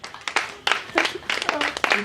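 Audience at a live French comedy stage show breaks into clapping mixed with cheers and shouts, arriving in uneven loud bursts across two seconds.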